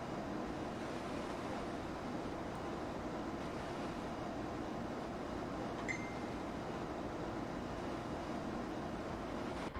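Steady, dense rushing wind in the X-Plane 11 flight simulator, aboard a ToLiss A321, fills the whole stretch, a constant broadband roar with no talking and only a faint brief tone near the middle.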